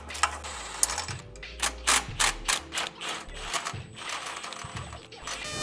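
A socket wrench ratchets in quick clicking bursts and then strains as it breaks loose the exhaust bolts on a BMW E9X M3, close and loud, with short pauses between the pulls.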